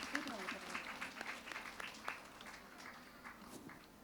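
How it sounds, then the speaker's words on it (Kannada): Audience applause for the dancer Ananya after a Bharatanatyam-style dance at her gejje pooja program, a steady spread of many hands clapping at moderate distance, fairly soft and continuous with a few sharper claps standing out. "ಮತ್ತೊಮ್ಮೆ ಜೋರಾದ ಚಪ್ಪಾಳೆ ಬರಬೇಕು ಅನನ್ಯಾಳಿಗೆ."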